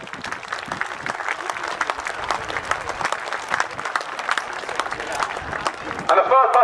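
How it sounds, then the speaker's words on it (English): A large outdoor crowd at an airshow claps in sustained, dense applause, steady and moderately loud, with a brief electronic tone near the end. "If you give him a round of applause"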